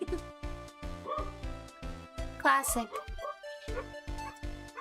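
Puppies bark in repeated loud yips and bow-wows from close by, arriving in rapid bursts with short gaps, while a person speaks briefly between them.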